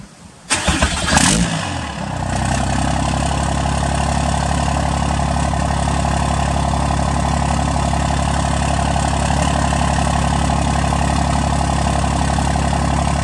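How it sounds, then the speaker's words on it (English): A diesel truck engine cranks briefly and catches, then settles into a steady, deep, loud idle that runs on for over ten seconds with no one speaking. "it would not be a complete video if I didn't do a startup for you guys"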